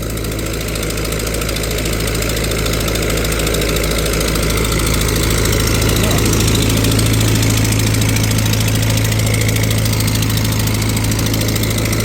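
A tractor engine runs steadily under heavy dynamometer load at about 15 horsepower, a loud, constant low rumble with a rough exhaust drone and no pauses, close to the listener.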